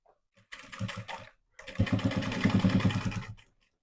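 Sewing machine stitching a belt onto a saree, two bursts of rapid mechanical needle clatter, a short run then a longer steady one, close and loud with no talking.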